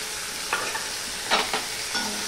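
Ginger and spices frying in a pan for a pumpkin stem and leaf curry, a soft steady sizzle broken by a few brisk spatula stirs and scrapes, close and without voices.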